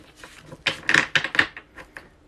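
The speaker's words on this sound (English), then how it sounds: "Just need to shuffle to get ready for the cards of the day" Tarot cards are shuffled for a group reading in a quick series of soft, papery riffling and slapping sounds, close and fairly clear with no talk.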